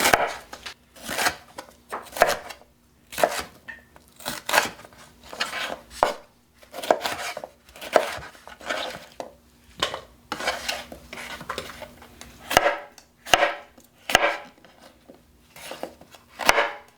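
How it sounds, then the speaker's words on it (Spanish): Peppers are chopped into small pieces for Puerto Rican sofrito, with a knife striking a cutting board in quick bursts of sharp, close chops and short pauses between them. "Los voy a picar en trocitos"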